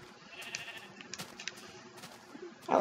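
Sheep bleating in the Minecraft video game, a short call rising loud at the very end over quiet game ambience and scattered clicks.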